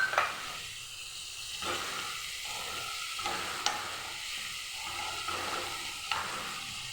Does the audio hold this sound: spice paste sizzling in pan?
yes